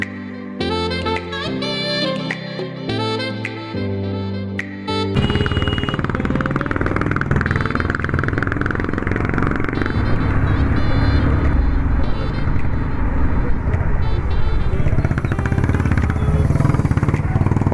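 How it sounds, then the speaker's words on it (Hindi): Traffic at the Mussoorie bus stand in the Uttarakhand mountains, with a loud, steady rumble of motorcycle and car engines that follows a few seconds of music. "और ये आ गया है मसूरी का बस स्टैंड।"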